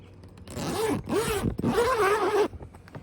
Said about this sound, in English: I'm gonna unzip this and we'll take a look inside.